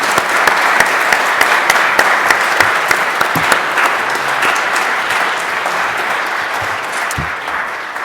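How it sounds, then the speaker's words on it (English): A debate audience applauds the debaters with sustained, dense clapping from a large crowd, loud and even throughout, tapering slightly toward the end. "Join me in giving a round of applause to our debaters."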